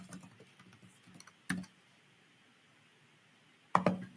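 Fingers tap quickly on a computer keyboard while an email address and password are typed, giving a soft patter of keystrokes with a couple of louder clicks, and no talking.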